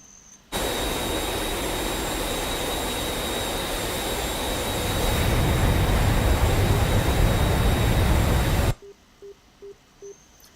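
Loud, steady roar of a MiG jet engine in flight in a flight simulator, swelling slightly louder partway through, then cutting off abruptly near the end, followed by a few short electronic beeps.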